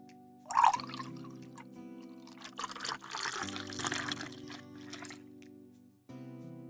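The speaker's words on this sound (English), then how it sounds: "pour myself some more coffee" Coffee poured into a cup, a steady liquid stream lasting several seconds at close range, with background music underneath and no talk.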